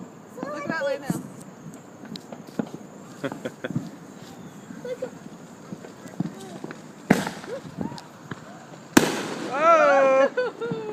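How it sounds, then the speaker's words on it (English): Neighbours' Fourth of July fireworks outdoors at night, with scattered pops and crackles through the clip and two sharper bangs near the end, heard amid people talking and exclaiming. "our neighbor's going to shoot a couple more off in a second."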